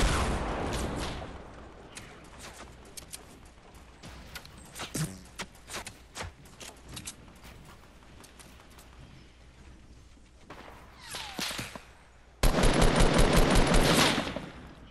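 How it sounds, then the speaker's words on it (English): Gunfire in a Fortnite match, with scattered single shots and bursts of rapid automatic fire that end in a loud, sustained stretch, heard alone without talk. "We're getting shot from all directions."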